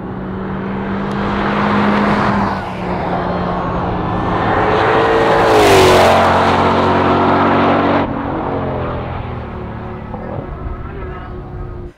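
A Ford Shelby GT500 driving on a race track, its loud engine droning and rising in pitch as it accelerates, then holding a steady, sustained roar.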